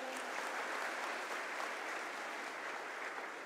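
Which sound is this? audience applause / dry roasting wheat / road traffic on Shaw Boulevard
audience applause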